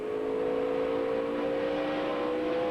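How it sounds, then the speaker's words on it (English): A race car engine in the 2005 Wallace Family Tribute 250 holds a steady droning tone as it eases onto the throttle through a corner, loud and continuous under broad track noise. "You can hear him just pick up the throttle."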